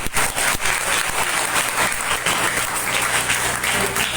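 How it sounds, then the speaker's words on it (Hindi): Steady applause from an audience at a Mata ki Chowki devotional gathering in Prayagraj, a dense, continuous wash of hand claps lasting throughout without a break. "भाई बहुत धीरे ताली बजा रहे हैं।"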